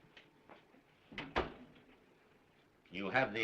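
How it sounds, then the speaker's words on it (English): A door closes with a brief thud and knock in a quiet room, followed by a voice speaking near the end. "Close the door."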